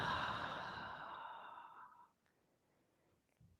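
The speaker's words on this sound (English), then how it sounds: "take a deep breath in and exhale" A deep, slow exhale during a vinyasa power yoga session, breathy and close, lasting about two seconds before trailing into quiet, with a soft second breath sound toward the end.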